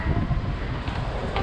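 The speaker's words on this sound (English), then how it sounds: "It is super duper windy." Strong outdoor wind in Sydney buffets the microphone as a steady, loud broadband roar that lasts throughout, with no voices.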